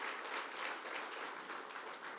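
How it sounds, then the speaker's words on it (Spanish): A congregation in a church service applauds, a short burst of dense, steady clapping from a crowd, moderately loud and unaccompanied by speech. "así que le damos un aplauso al Señor"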